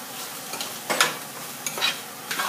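Fermented shrimp and egg being stir-fried in a pan, a few soft scraping stirs over a low sizzle, close by.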